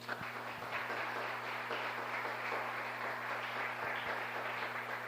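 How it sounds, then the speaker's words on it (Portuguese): Church congregation clapping for Jesus during a sermon, a steady wash of dense applause throughout, fairly loud and continuous with a low hum underneath. "aplauda Jesus aí."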